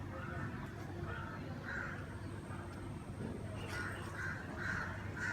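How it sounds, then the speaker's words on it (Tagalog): Crows cawing repeatedly in short hoarse bursts against a steady outdoor background hum, moderately distant, with a loose rhythm of calls. "Ingay ng mga ibon at saka tindahan"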